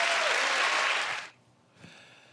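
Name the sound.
crowd applauding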